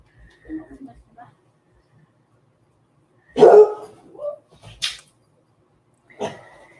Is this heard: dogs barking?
yes